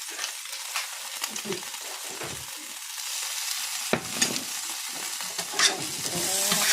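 Chicken kurma being stirred into chopped kothu chapathi in a hot pan, steady sizzling frying with scraping stir strokes, close and continuous, with no talk.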